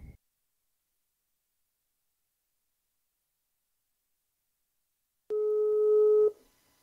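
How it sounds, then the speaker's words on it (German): A phone line tone sounds once while calling the police in the Minecraft video game, a steady held tone lasting about a second after a long silence, fairly loud and alone. "dann muss ich jetzt ganz schnell die Polizei anrufen"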